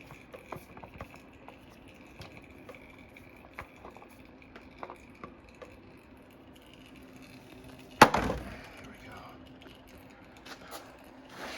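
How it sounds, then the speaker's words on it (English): Engine oil drains and drips from a Dodge Dakota's 4.7 engine during a rebuild, with faint, sparse drips and light patter over a quiet garage background and one louder clatter partway through. "I've started to drain the oil. So I'm gonna let that drip overnight."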